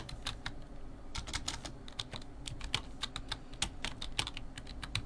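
Fingers type on a computer keyboard, a fast irregular run of close, crisp key clicks with short pauses between bursts, heard alone over a faint background hum.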